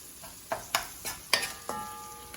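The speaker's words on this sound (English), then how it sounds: "Now it's starting to sizzle." Rice with pigeon peas sizzles faintly in a pan as it is stirred, with several sharp scraping strokes over a soft frying hiss.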